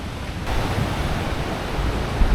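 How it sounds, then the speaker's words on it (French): Ocean waves breaking on a rocky and sandy beach in Bali make a steady, loud broadband rush of surf with some wind noise, and no voices are heard. "Ah oui il y a des belles vagues"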